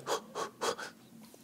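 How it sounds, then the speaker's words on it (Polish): A man takes three deep breaths in an even rhythm, each a soft, airy rush, followed by quiet; close and low in level. "Trzy oddechy"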